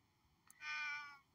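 A person imitates a cat with a single drawn-out meow, fairly faint over a quiet background hum, during a Minecraft haunted tunnel map session.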